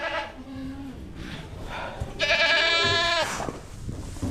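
Baby goats bleat in a sheltered barn, several wavering cries overlapping at close range, with one loud sustained bleat standing out near the end amid soft background noise.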